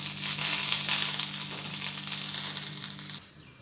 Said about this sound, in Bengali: নিম পাতাগুলো ভেজে নেব